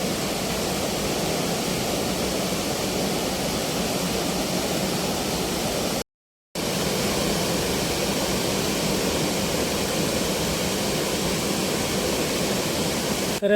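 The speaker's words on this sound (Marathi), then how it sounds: "मी तुम्हाला नदीचं पाणी दाखवत आहे" Steady, full rushing of a river with no talk, continuous and fairly loud, broken only by a brief silent gap midway.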